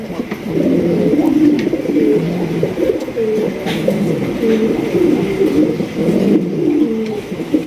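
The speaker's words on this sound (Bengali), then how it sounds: "এত বড় সাইজের একজন এক্সিবিশন কবুতর" Large exhibition pigeons coo loudly and close by, repeated throaty rolling calls overlapping one another throughout with hardly a pause.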